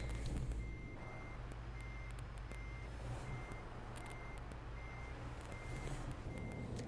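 Regular electronic reversing beeps from a DAF 95 ATi truck in Euro Truck Simulator 2, repeating steadily over a constant low diesel engine rumble with no talk.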